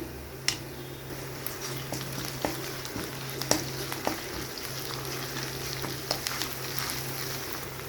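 Onions and ginger-garlic paste frying in oil for a tomato curry: a soft, steady sizzle close by, dotted with sharp pops and spatters and occasional light stirring clicks, no voices.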